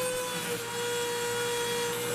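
A small sanding drum grinds away at the jagged edges of a metal troll necklace piece, giving a steady, loud abrasive whine with a constant pitched hum and no pauses.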